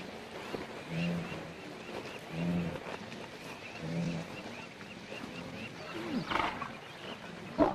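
Lioness and hyenas squabbling over a kill in the wild, with a series of low growls and roars rising and falling at intervals, then sharper yelps and cackling calls near the end.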